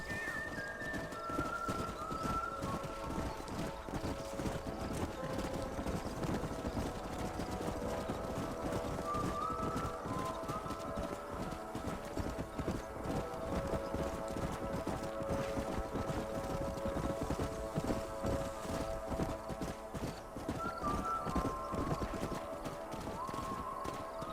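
Rapid rhythmic hoofbeats of a galloping horse in Red Dead Redemption 2 drum continuously and loudly up close, with tonal game music or ambience layered over the steady clip-clop.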